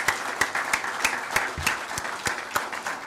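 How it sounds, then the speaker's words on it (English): Mosque congregation in New Orleans applauding, a dense wash of many hands with sharp louder claps standing out at a steady beat, close and continuous throughout. "Keep clapping, keep clapping."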